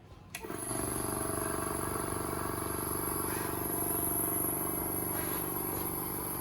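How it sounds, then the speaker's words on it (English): Compressor on a flame emission spectrophotometer starting up with a short clunk, then running as a steady, loud mechanical hum and rattle with a high whine, continuous and close with no talk. "For that, first switch on the compressor."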